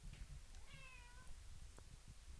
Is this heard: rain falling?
no